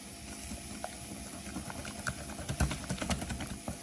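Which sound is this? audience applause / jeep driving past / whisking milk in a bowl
whisking milk in a bowl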